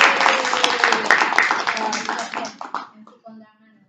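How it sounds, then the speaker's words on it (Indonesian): An audience at an Indonesian elementary school gives a round of applause for a teacher candidate, a dense burst of claps close by that thins out and fades after a few seconds, with voices mixed in. "Mari kita kasih tepuk tangan yang meriah untuk calon guru penggerak Ibu Rita Eliza."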